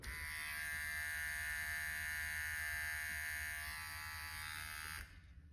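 Moser ChromStyle Pro electric hair clipper buzzing steadily at close range for several seconds, then switched off, leaving near silence.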